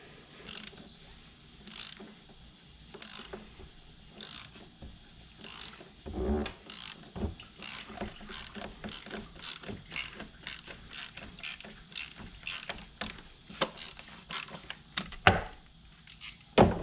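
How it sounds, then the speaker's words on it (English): A ratchet loosens the oil filter cap on a 2011 Chevy Malibu, making repeated quick clicking strokes in uneven bursts, quiet and close, with occasional knocks of metal. "put it right here on the oil filter cap. Take your ratchet,"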